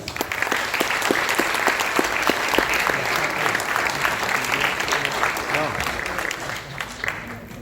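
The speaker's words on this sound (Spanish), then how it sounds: "quiero pedir que recibamos con un fuerte aplauso al compañero Marcio González" A union meeting audience of bank workers gives a loud welcoming round of applause for a regional secretary, dense crowd clapping with distinct sharp claps near the start, steady throughout before easing off at the end.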